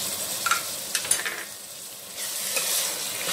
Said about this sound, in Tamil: நல்லா போட்டு கிளறிடுவோம்.